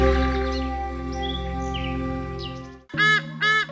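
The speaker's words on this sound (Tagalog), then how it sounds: "sinalubong naman sila ng iba't ibang klase ng ibon" At the Philippine Eagle Center in Davao, a steady sustained tone gives way to two loud, close bird calls in quick succession, each a harsh, ringing burst.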